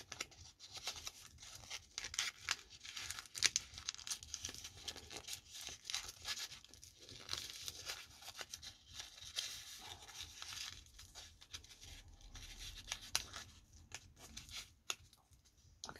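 Paper crinkling, rustling and tearing-like crackles as a photograph sprinkled with chili and cayenne powder is folded by hand, steady close handling sounds with scattered sharp crinkles and no talk.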